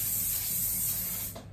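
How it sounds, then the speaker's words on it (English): Aerosol spray sprayed in a steady, close hiss for about a second and a half before cutting off, with no talking over it. "let me just add a bit of spray"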